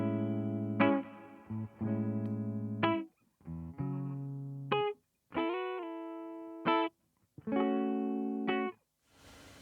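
Guitar played through an abSYNTHe synth pedal with an Electro-Harmonix Holy Grail reverb, giving buzzy, synth-like sustained notes in short phrases separated by brief silences, with no talking.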